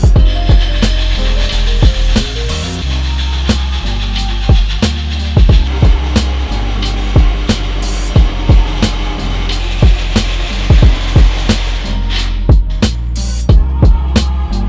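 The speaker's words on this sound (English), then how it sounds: "just got the drill set up, just on the chassis, lined up with the center of that hole" A drill mounted and clamped over a Holden One Tonner chassis cuts holes through the steel frame, a steady close mechanical grind broken by repeated sharp clicks and knocks at an uneven rhythm.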